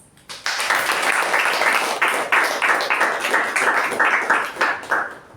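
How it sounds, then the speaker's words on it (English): Members at the close of a club meeting break into dense applause, a continuous wash of clapping that swells quickly and tapers at the end. "let's have a huge round of applause for all of us"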